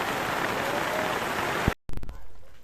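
Heavy rain pours steadily outside a rural home where ducks shelter by the door, a loud dense hiss that cuts off abruptly, followed by a few sharp knocks and a quieter stretch of rain.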